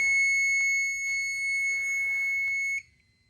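A fire alarm system sounds during a test, with a loud, steady electronic alarm tone carrying faint beeps underneath, then cutting off abruptly near the end, leaving near silence.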